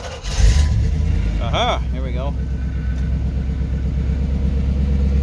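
1988 Chevy V30 with an all-new exhaust cranks and fires, then settles into a steady, deep rumbling idle, close and loud, with someone briefly speaking over it.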